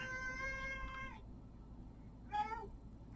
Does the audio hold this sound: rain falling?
no